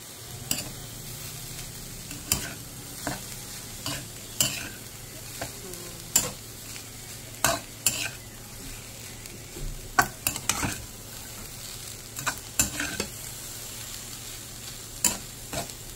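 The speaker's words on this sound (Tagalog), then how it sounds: "sunod na natin yan i-mix natin yung ating fried rice" Fried rice with kangkong is stir-fried in a pan, with a steady soft sizzle under repeated sharp clacks and scrapes of a spatula against the pan at an uneven rhythm.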